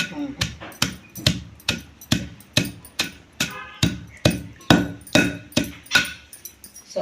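A stone pestle pounds chutney made with wood apple and garlic in a stone mortar, about twenty sharp, steady thuds in a regular rhythm, close and clear.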